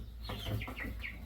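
Pastured meat chickens on a farm give a quick run of several close clucks, a short burst of bird calls over a low background hum.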